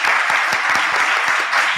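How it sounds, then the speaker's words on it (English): An audience at an energy forum panel claps for the departing panelists, loud, dense applause with a few sharp individual claps standing out, sustained throughout with no talking on top. "Please, a round of applause."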